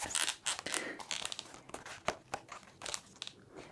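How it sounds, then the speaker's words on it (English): An old book's spine creaks and crackles softly up close as the cover is opened and flexed, a string of dry, irregular crinkling snaps in a quiet room. "Book spine creaking."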